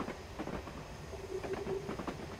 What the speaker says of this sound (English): we're going downhill now and this train does not want to stop